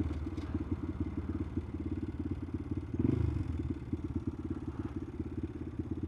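A Honda Grom small motorcycle engine putters in a fast, steady pulsing rhythm, fairly faint and distant, with a brief swell partway through and no talking.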